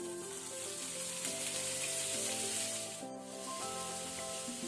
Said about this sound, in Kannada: ಈಗ ನಾವು ಕಟ್ ಮಾಡಿ ಕ್ಲೀನ್ ಮಾಡಿಟ್ಟಂತ ಪೂಂಬೆ ಹಾಕೋಣ